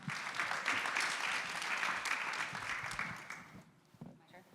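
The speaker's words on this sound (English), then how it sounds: "Round of applause, y'all." A crowd applauds loudly and steadily for several seconds, then the clapping fades out.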